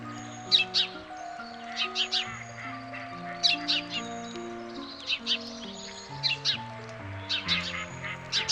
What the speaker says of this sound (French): comme ici ces oies bernaches ou des oies cendrées